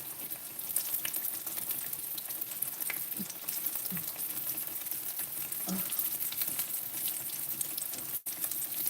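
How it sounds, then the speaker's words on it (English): Salmon steaks fry in a pan, giving a steady, fairly quiet sizzle with scattered small pops and crackles throughout, with no voices. "We're having salmon steaks. We're frying them up and playing around with seasonings."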